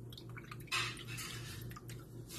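A fake fish is dropped back into water, giving a short splash and dripping against faint background noise.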